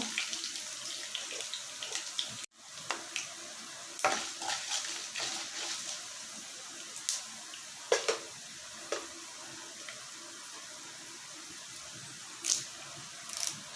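Two cloves of finely chopped garlic fry in a pan for a Tamil ridge gourd kadaiyal, giving a steady soft sizzle broken by sharp scraping clicks from stirring, with no talk.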